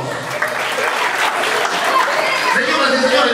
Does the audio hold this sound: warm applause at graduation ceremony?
yes